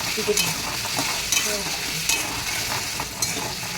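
Ghati kochu (taro) curry fries in a pan while being stirred, with a continuous loud sizzle broken by sharp spatula scrapes and knocks every second or so.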